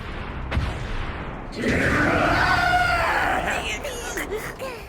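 Guzzlord, a Pokémon, lets out an unsettling cry, a harsh, loud, wavering screech lasting a couple of seconds after a brief thump, over rumbling background noise.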